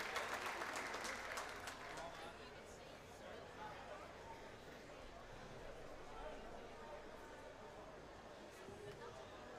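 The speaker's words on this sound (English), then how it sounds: "I think he deserves a round of applause" An audience at the Balmoral Show sheep shearing event applauding the shearing chairman, a dense burst of clapping loudest at the start and fading into crowd murmur over several seconds, with a voice speaking over it.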